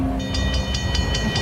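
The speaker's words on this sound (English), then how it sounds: "I think there's a train coming." A train on a railway, with loud sustained rumble and a steady rhythmic series of bright high-pitched pulses, like bell or signal clangs, repeating about five times a second.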